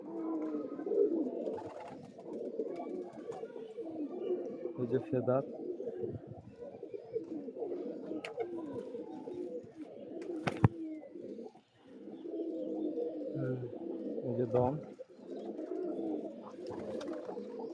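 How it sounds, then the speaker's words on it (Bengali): Soft, low cooing from a female pigeon continues through the clip, close by but quiet, under someone talking steadily. "মাদি পায়রাটা দেখুন"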